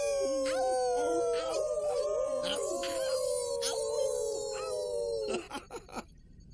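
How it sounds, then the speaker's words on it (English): A young wolf pup gives a long, wavering howl that slowly slides downward for about five seconds, then breaks into a few short yips at the end, fairly close and clear. "How did he learn to howl already?"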